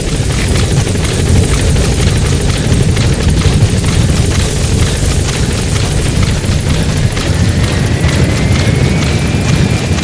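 Support helicopter arriving in Metal Gear Solid V, a loud, close, continuous rotor thrum and whooshing chop holding steady throughout, with a faint rising whine late on and no speech.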